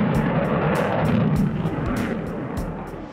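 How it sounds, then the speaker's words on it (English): A jet engine firing its afterburner gives a loud, continuous broadband roar that holds steady throughout with a few sharper bursts on top. No one speaks. "For extra speed, this jet is dumping fuel from the jet engine, creating a huge flame called an afterburner"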